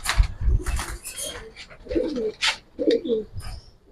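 Giribaz pigeons shuffle about inside a cage, giving soft repeated coos mixed with brief fluttering and scuffling, all close by.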